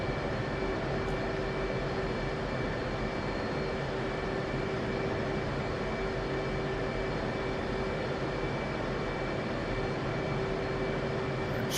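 A jet aircraft engine idles in the DCS flight simulator, ready for taxi. It makes a steady, unbroken whine and hum with no voices over it.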